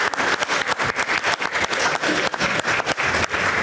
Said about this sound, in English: we just want to give you a big round of applause